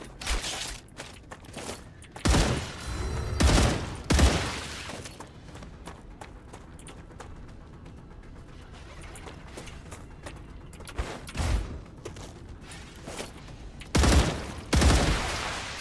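Bursts of automatic gunfire from the sci-fi shooter game Star Rupture crack out in several loud volleys, separated by quieter stretches of mechanical handling sounds.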